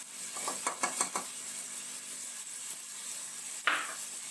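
Tomatoes, green chilies, salt and turmeric frying in a pot for matar pulao: a steady, soft sizzle under a few quick metallic clinks of a spoon against the pan, with one sharper scrape near the end.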